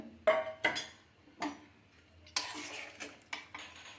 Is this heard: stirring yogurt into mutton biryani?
yes